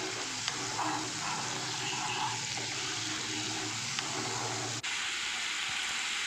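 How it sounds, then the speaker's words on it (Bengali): An onion-based spice paste fries in oil in a pan, producing an even, close sizzle throughout with a brief click near the end and no talk. "দেখুন কত সুন্দরভাবে মশলাটা কষানো হচ্ছে, আর একদম তেলগুলো না দেখুন উঠে এসেছে, আর মশলা কিন্তু খুব সুন্দরভাবে ফ্রাই হয়ে গেছে"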